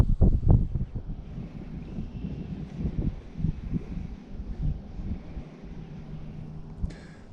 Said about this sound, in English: Jeez, oh Pete, that wind is nuts.